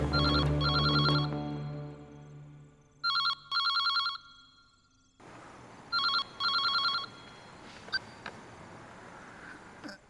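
A telephone rings in short double bursts, three ring cycles separated by pauses, loud and close, with a faint background hum.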